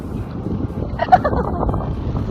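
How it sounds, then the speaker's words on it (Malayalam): Strong wind buffets the microphone at Wandoor Beach in the Andaman Islands, a steady low roar with gusty surges running through the whole short stretch. "ഭയങ്കര കാറ്റാണ്"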